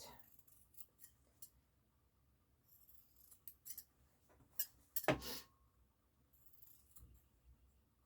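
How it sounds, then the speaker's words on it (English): Sewing scissors snip fabric while trimming the corners of apron pockets: sparse, quiet cuts spaced irregularly, with one sharper, louder snip near the middle and faint handling noise between. "I'm just trimming the corners to reduce the bulk in the pockets"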